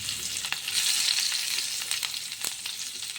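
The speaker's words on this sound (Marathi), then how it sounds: "आणि हे आता मी फ्राय होऊन देते." Green chilies with a pinch of turmeric sizzle steadily in hot oil, a bright continuous crackle with a few soft stirring clicks, with no one talking.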